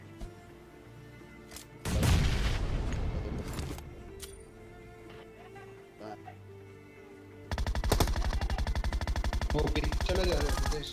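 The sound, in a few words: grenade and gunfire in video game PUBG Mobile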